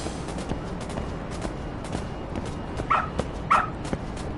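A dog in a video game gives two short sharp barks near the end, heard over a busy background of rustling and game ambience.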